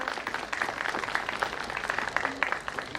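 Audience applause at an amphitheater inauguration, a steady, dense wash of many hands clapping throughout, moderately distant and continuous.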